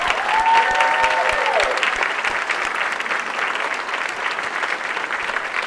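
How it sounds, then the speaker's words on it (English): An audience at a college State of the College event applauds three honorees, dense steady clapping from a large crowd that stays loud throughout, with a brief faint tonal whistle-like sound near the start. "Yes, let's applaud all three of them"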